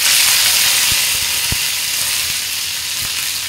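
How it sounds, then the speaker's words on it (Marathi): Curry leaves and crackling mustard seeds sizzle in hot tempering oil for an Indian vegetable dish, a steady loud hiss broken by a few sharp pops close by, with no voices. "मोहरी चांगली तडतडली की यात आपण कढीपत्ता घालूया।"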